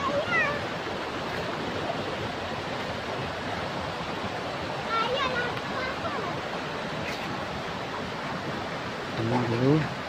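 Waterfall in Aceh Tenggara on a cold morning, heard as a steady broadband roar of falling water that runs through the whole stretch, with a few faint bird chirps above it.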